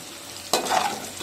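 Onions sizzle in a pan with salt as a spoon stirs them, a sudden scrape and hiss that settles into steady close frying.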